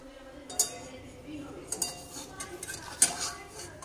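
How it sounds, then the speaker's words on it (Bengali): A spoon stirs ground black pepper into a healthy breakfast mixture in a pan, giving scattered metallic clinks and scrapes against the cookware, close and fairly soft, with a few sharper taps. "শুধুমাত্র এখন একটু মিশিয়ে দিলাম একটু গোলমরিচের গুঁড়ো"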